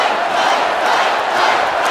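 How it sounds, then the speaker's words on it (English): A large crowd at the Republican convention roars and chants "Fight" in support of Trump, a dense, loud, continuous wall of voices filling the hall without pause. "The crowd chanted, "Fight," the same word Trump mouthed while being rushed off stage 3 days ago."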